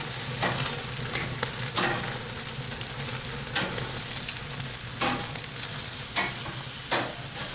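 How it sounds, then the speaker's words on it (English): Korean pork belly sizzling hard on a grill during a big flare-up, a loud continuous fatty crackle punctuated by regular sharp pops and spits, close and with no voices. "Okay, there's a nice big flare up."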